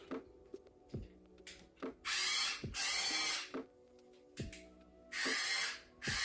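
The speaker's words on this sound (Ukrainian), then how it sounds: "А тепер бачу, що це шуруповерт." A cordless screwdriver is switched on in short bursts, giving several close, whirring runs of a second or less separated by clicks and handling noises.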